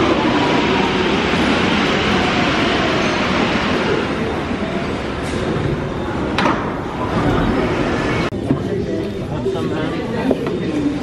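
A Paris Metro line 9 train rumbles steadily and loudly throughout, with a few brief clanks and screeches over the continuous roar of the carriage in motion.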